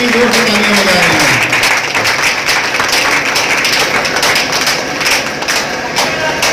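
Loud, dense applause from a crowd of women clapping hard, a steady unbroken roar of hand claps that fills the whole stretch.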